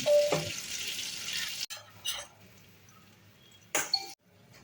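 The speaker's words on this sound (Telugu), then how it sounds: "వేసుకొని దీన్ని అంతా ఒకసారి బాగా కలుపుకోండి" Cooked rice being stirred into blended capsicum paste in a pan: a steady scraping, sizzling wash for the first second and a half, then a few short stirring bursts, close and with no talk.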